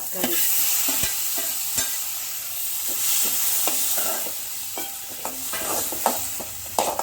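Leaves for thalai rasam sautéing in a pan, a steady sizzle broken by frequent scraping and tapping stirs of a spoon, close up, with no voices.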